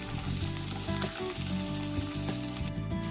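Capsicum tumbles into a pan of frying vegetables, raising a steady close sizzle with soft stirring scrapes through the whole few seconds and no voices.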